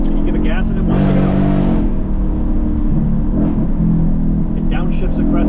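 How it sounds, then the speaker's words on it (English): A 2022 Mustang GT Fastback accelerates hard from inside the cabin, the engine surging and shifting in a loud, sustained growl while someone talks over it. "You give it gas, and it wants to go."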